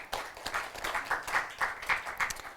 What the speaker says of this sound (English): Let's give Ms. Camilla Chippa another round of applause.